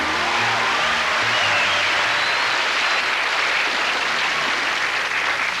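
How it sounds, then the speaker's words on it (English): Sustained audience applause fills the room at a televised 1981 NBC tribute to Jack Benny, a dense, steady wash of clapping from a large crowd with no speech over it. "But tonight, the applause is for Jack."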